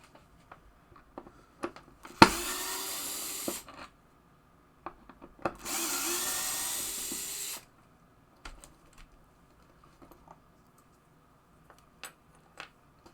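Vacuum cleaner running beneath a pinball machine, two loud bursts of hissing whoosh of about one and two seconds, separated by quiet gaps with scattered clicks and knocks.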